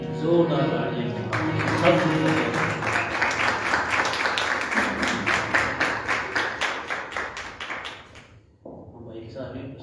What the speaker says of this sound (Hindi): मैं चाहूँगा खुदावंद के लिए जोरदार तालियां सब